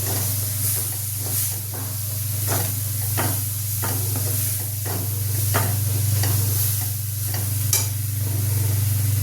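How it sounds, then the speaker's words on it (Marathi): Chilli powder, black chilli powder and turmeric sautéing in a pan for a fenugreek dal dish, with a steady close sizzle and a strong low hum throughout, broken by repeated scraping stirs of the spoon. "आवडीनुसार तिखट 2 चमचे, काळं तिखट अर्धा चमचा आणि हळद, हे पण चांगलं परतून घ्यायचं।"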